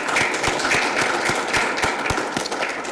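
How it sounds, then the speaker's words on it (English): A council meeting audience claps in a small room, a continuous patter of many hands with some distinct sharp claps standing out, fairly close and steady, with no talking over it. "Let's start with a big round of applause for Vicky, another hometown hero."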